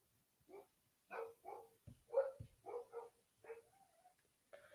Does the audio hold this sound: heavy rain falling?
no